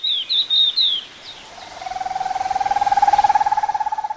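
An oriental white-eye, a small bright green bird, gives a few quick high chirps, then a sustained rhythmic trilling call that pulses steadily, close and clear with no other sounds.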